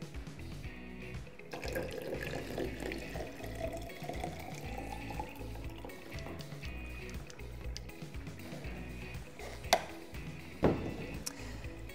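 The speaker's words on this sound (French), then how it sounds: "Pour ensuite rajouter 200 ml d'eau déminéralisée." Demineralised water poured while mixing black-and-white photo developing chemistry, a steady close liquid wash running throughout with a couple of sharp clinks near the end.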